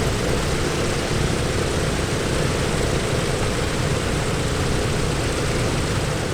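A PMDG DC-6A piston engine running in a flight simulator game: a steady, loud, droning propeller roar holds at an even level throughout, with no talking.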